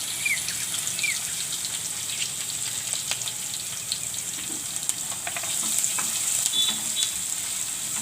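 Asafoetida, ginger and green and red chillies sizzle in hot oil for a potato and capsicum curry, a steady close crackling fry with bright spattering pops and no talk.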